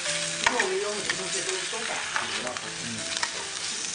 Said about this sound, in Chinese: 猪肝炒豌豆尖是最好吃的。